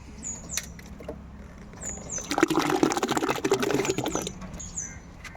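Jeevamrutha liquid fertilizer mixture splashes and patters into a bucket for a couple of seconds, with a few faint chirps and scrapes before and after.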